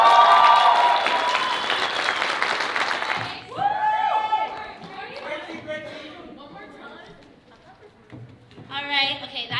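An audience applauds performers at a community showcase. A loud burst of clapping lasts about three seconds, then fades into scattered claps and chatter, with a voice speaking over the tail.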